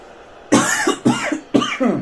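A man coughs three times in quick succession, loud and close, each a sharp burst with no talk over it, while he plays PES 2021 football.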